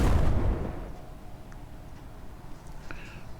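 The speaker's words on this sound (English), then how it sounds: "the missile detonates" A missile detonating in Wasteland Remastered, heard as a loud deep boom at the start that fades into a rumbling tail over a few seconds, then a low steady background.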